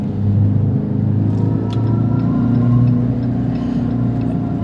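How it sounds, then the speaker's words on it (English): A 2025 Dodge Charger Scat Pack accelerates on a highway, its exhaust a loud, continuous low rumble that swells slightly and then settles, heard from inside the car without talk. "the exhaust sounds are fun"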